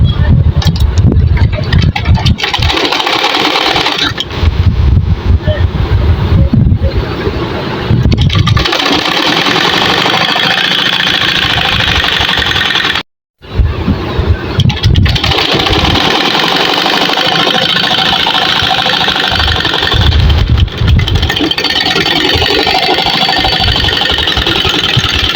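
An electric sewing machine stitches around the bottom border of a women's prayer hijab, its motor whirring loud and steady with a few short pauses and one brief full stop midway.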